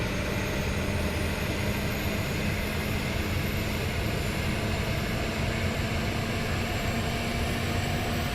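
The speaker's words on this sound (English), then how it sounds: "That is what APU sounds like when it's spooling up." Airbus auxiliary power unit spooling up in Microsoft Flight Simulator 2020, a loud, constant turbine roar with a steady high whine layered over deep rumble, unbroken throughout.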